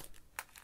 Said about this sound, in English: Oh, I've torn this already. I can't get in. It's a tough pack.